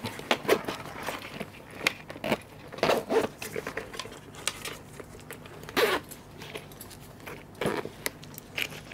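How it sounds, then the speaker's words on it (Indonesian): The zipper on the neck roll of a Bell Pit Boss motorcycle helmet is pulled open in short rasping bursts, close and fairly quiet, with handling rustles and clicks between them. "ini ada resleting. Ini bisa kita buka."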